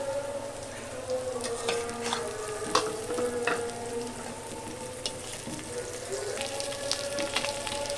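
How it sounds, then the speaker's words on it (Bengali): Large puti fish fry in a pan with browned onions: a continuous close, crackling sizzle, with scattered clinks and scrapes from careful stirring and no voices. "আমি এর ভিতরে এখন মাছগুলো দিয়ে দিচ্ছি আস্তে করে, যাতে ভেঙে না যায়"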